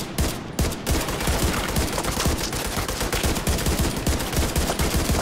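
Rapid, sustained gunfire from a firefight in Tom Clancy's The Division 2, dense bursts of shots crackling continuously at close range with no pauses.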